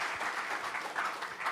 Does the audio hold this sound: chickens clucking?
no